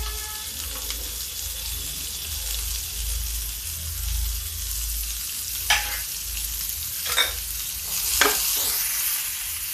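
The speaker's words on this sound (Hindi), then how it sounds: "अब डालते हैं प्याज, थोड़ा प्याज मेरे पुलाव के लिए रखा हुआ है। और ये डाल देते हैं लहसुन, लहसुन प्याज हरा मिर्चा।" Onion, garlic and green chili fry in a hot pan with a soft, steady sizzle close by, broken by a few brief sharper crackles and stirring scrapes near the end.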